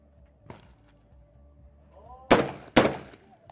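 Two loud shotgun blasts fired in quick succession during a trap shooting World Cup final in Rome, sharp and booming after a quiet lead-in with a faint soft knock.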